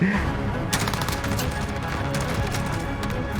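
Rapid automatic gunfire from a gun in the video game Modern Warfare multiplayer, a loud close burst of fast repeated shots running almost continuously with brief gaps.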